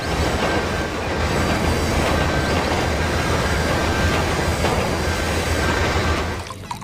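A toy high-speed train plays a loud recorded train sound. A steady rumble of rolling wheels lasts throughout, with a faint whine above it, and it cuts off just before the end.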